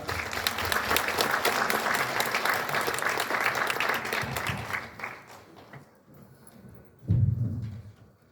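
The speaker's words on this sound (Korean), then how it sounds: "자, 큰 박수로 모시겠습니다." A seminar audience in Daegu claps for a philosophy professor before a Kant lecture, a dense steady applause for about five seconds that thins and fades, followed by a brief low thump.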